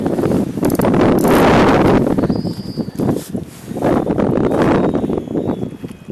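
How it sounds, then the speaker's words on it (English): Strong wind on a boat on Lake George in April buffets the microphone in loud, roaring gusts that rise and fall throughout, with a faint rustle underneath. "We got this wind kicking us around now."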